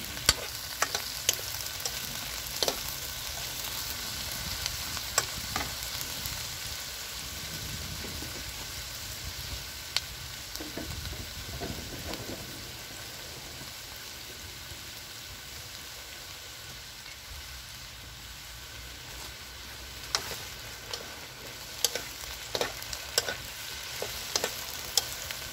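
Meat sautéing in a pan for a home-cooked lunch, a continuous crackling sizzle with scattered sharper pops and spatters, steady and close without any talking.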